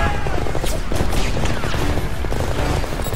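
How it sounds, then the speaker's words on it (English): In the video game Homefront, a rocket-spewing automated tank called Goliath fires in a dense, loud barrage of rapid blasts and booms that run together for the whole few seconds. "At points in the campaign, you'll control a rocket-spewing automated tank named Goliath."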